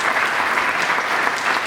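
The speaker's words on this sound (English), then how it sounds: "So give yourself a round of applause." An audience at a school awards ceremony claps steadily in a dense, continuous round of applause, filling the room without pause.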